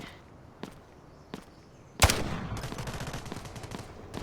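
Gunfire in a Hot Zone mode shooter video game: a few isolated distant shots, then a sharp close burst followed by sustained rapid firing.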